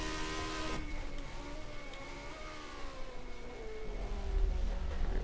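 A 1975 Formula 1 car in the rFactor2 racing game, its engine holding a high whining drone that climbs and dips through shifts, then swells louder near the end.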